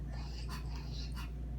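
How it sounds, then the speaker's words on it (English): A sick female dog pants in short, rapid breaths, with a couple of brief whimpers breaking through close by over a low background hum. "my dog is having problems right now."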